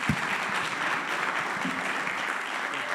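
An audience at a community dialogue event claps in a steady, dense burst of applause that fills the room for the whole stretch.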